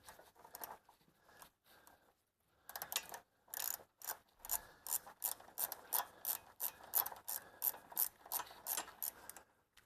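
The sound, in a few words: ratchet removing 10 millimeter bolt on Toyota Camry strut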